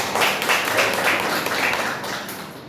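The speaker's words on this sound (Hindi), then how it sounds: "अरविंद जी, जबरदस्त तालियों से।" An audience applauds in a dense wash of clapping that swells and then gradually fades over a few seconds, with no one speaking over it.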